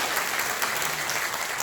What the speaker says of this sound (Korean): 박주은희 본부장님께 다시 한번 큰 박수 부탁드립니다.